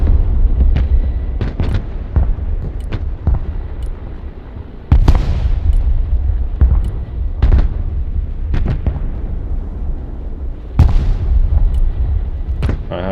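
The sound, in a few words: explosions in Broken Arrow video game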